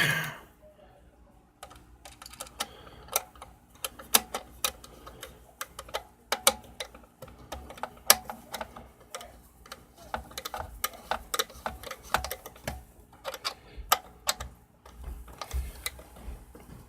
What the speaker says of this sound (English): I'm going to go ahead and put my little bolt in there. And I'm going to snug this dude down real quick.